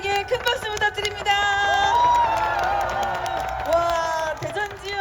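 A crowd at a street protest rally in Daejeon applauds and cheers for high school students, with whoops and shouts over steady clapping and a tonal voice or chant running through the mix.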